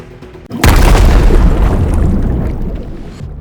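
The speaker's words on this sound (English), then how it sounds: "The woods are lit up with orange flames followed by a loud bang" A loud explosion in the video game The World Well: Blood of Caro bursts in with a sudden heavy boom, then a long rumbling roar that slowly fades, with no voices over it.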